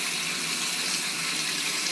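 Cold tap water splashes steadily over a pressure cooker in a kitchen sink to release its pressure while cooking black beans and rice, a continuous close hiss with no talk.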